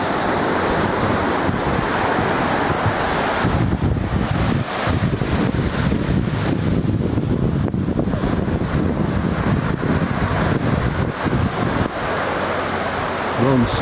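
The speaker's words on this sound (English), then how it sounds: "I see the beach is nice here." Waves wash onto a grayish sand beach at the Bahia Principe resort in Puerto Plata, Dominican Republic, a continuous roaring surf mixed with gusty wind noise on the microphone throughout.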